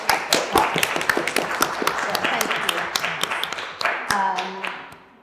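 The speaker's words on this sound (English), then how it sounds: "I'm going to give you a round of applause" An audience at an evening panel event claps, a dense patter of many hands that stays steady and then thins out toward the end, with a voice briefly speaking near the close.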